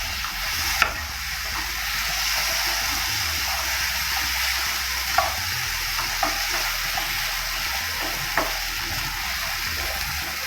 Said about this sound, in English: So now I'll put those 2 tomatoes which I had roasted along with the brinjal. So I'll just add them and give it a mix.